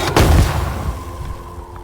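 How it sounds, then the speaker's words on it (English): A Boomaloon plant explodes in the video game Astroneer: a single loud, close boom that fades into a rumbling tail. "If you get too close, they will explode, emitting a large cloud of acid gas."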